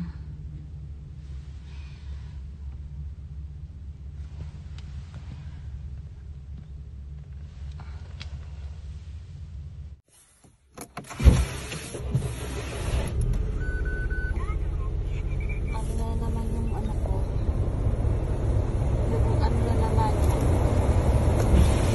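A car engine, freshly started in extreme cold with snow falling, fires up after a low idle rumble and a brief silence, then runs with a loud, steady broadband roar.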